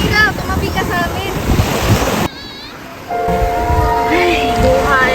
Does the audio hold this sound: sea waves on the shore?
yes